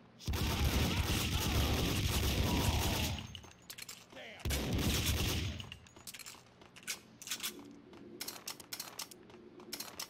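Sustained gunfire in the video game Max Payne 2, a dense roaring burst for about three seconds, a brief pause, then another heavy volley that thins into scattered shots and mechanical clicks.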